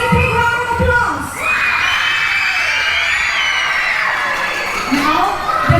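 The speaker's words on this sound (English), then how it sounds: "Alright, let's give a big round of applause." A crowd at a school sports day cheering and shouting, with children's high yells and whoops rising over a broad roar that swells and holds for several seconds.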